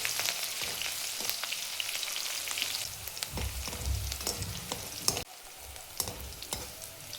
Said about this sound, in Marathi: मिरची पण छान तळून घ्यायची.